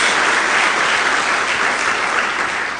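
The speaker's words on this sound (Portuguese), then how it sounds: "Dá uma salva de palmas a Jesus." A church congregation applauds during a Portuguese-language service, producing dense, loud, sustained clapping that stays even throughout with no speech on top.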